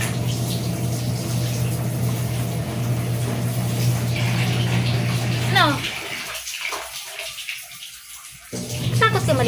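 Water runs from a tap while a cat is being given a bath, a steady close splashing rush that continues under a low hum. A person speaks over it, and near the end the water cuts out briefly before it resumes.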